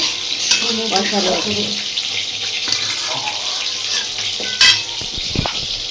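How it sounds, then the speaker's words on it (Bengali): Spice masala sizzles and bubbles in a pan after water is poured in, with a hissing fry throughout, some stirring scrapes and a few sharp utensil knocks near the end. "এবার এই মশলাটা ভাজা হয়ে যাওয়ার পর এটার মধ্যে এবার জল দেওয়া হয়েছে"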